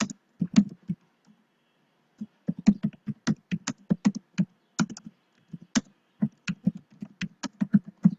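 Keys clatter on a computer keyboard while a MySQL insert query is typed, bursts of quick close clicks separated by brief pauses.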